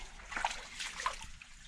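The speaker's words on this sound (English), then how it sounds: "Some water coming out there." Water trickles and dribbles out of an off-grid pool, a faint, soft splattering and gurgling that rises in a few small splashes over a quiet background.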